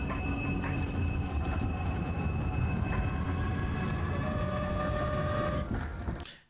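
A video game train rolling along its rails, a continuous near rumble of wheels with faint tonal squeal, holding steady before cutting off at the end.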